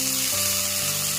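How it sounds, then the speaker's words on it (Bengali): Potatoes frying with spice masala in a pan for ghugni, giving a short dense sizzle with a low humming tone underneath, close and steady, no voices. "আলুগুলোকে দিয়ে ভালো করে কষিয়ে নিয়েছি।"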